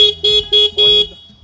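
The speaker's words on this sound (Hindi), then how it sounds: "जैसे इसका हॉर्न है, आप देख सकते हो," A BS6 Suzuki Gixxer 155 motorcycle horn sounds up close in three short, thin, high-pitched beeps, the last one held slightly longer, followed by silence.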